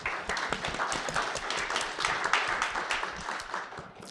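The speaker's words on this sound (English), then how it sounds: "Please give them a round of applause." Audience members at an evening talk on artificial intelligence applaud the board members present, a brisk, fairly close burst of many hands clapping that holds steady throughout.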